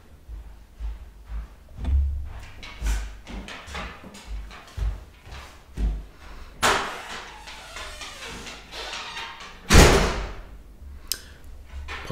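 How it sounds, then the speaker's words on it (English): A loud front door bangs shut indoors, with a sharp slam near the end standing out from scattered softer thumps and handling noises. "my front door's very loud."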